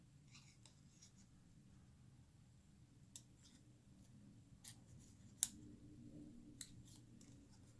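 Scissors snip through leftover scrap paper while cutting out a small die-cut shape, a handful of sharp, quiet clicks spaced irregularly over a faint low room hum, with no talking.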